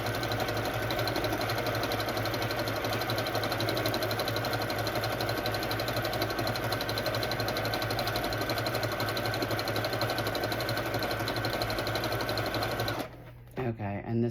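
A sewing machine runs steadily, stitching a faux leather journal cover made from a worn-out purse, a fast even whir that holds for about thirteen seconds before stopping abruptly; no talk is heard.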